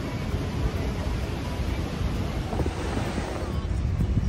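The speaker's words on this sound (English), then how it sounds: "look at the water and the waterfall" Rushing water at Niagara Falls in Ontario, Canada, a broad, roaring wash heard close and loud, with heavy wind buffeting the microphone throughout.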